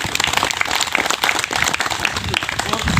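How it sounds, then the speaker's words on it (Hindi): An audience at a spiritual talk bursts into dense, continuous applause, many hands clapping at once from close by, loud and sustained for the whole moment with no pause. "पुष्पा दीदी के नाम से वो ताली बजा दो"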